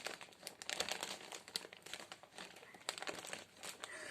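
Close, busy crinkling and ripping of a plastic delivery parcel bag being torn open, with irregular crackles and tearing bursts throughout and no talk.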